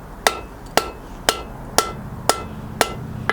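A hammer strikes a medieval spear head on an anvil in a steady rhythm of seven sharp, ringing metallic blows, close and loud with no talk.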